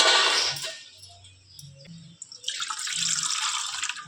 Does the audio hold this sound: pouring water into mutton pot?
yes